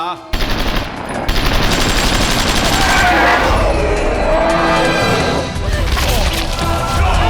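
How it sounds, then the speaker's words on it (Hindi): Gunfire in a Hindi-dubbed Hollywood action movie, Eagle Man, erupting as loud, sustained rapid automatic bursts with crashing impacts, continuing almost without pause, with speech mixed into the chaos. "गोली चलाओ, जल्दी!"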